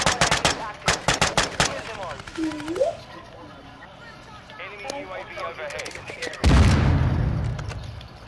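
Rapid bursts of automatic gunfire crack out in Call of Duty: Modern Warfare II, followed by quieter game sounds under players' talk and then a loud, rumbling explosion.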